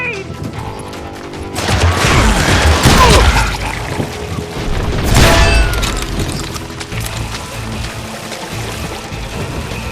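Two heavy shotgun blasts boom out from a Western video game, Call of Juarez: Gunslinger, each followed by a rumbling tail, with faint voices and game noise between them.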